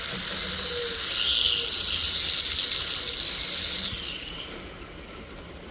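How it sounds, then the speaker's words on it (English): Metal sides being filed down by hand to prepare a clean, even surface for welding, giving a raspy scraping that runs steadily for several seconds with no talk. "let's go ahead and file these sides down real quick, just to make sure we got a nice clean even surface to weld there"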